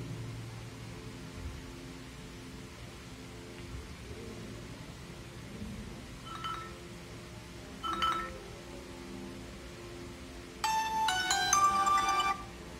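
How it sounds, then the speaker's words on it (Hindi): Song played through the front top-mounted speaker of an Honor 7S budget phone, faint at first with a few soft chimes, then a louder bright melodic burst near the end. "कोई सॉन्ग चला कर देख लेते हैं।"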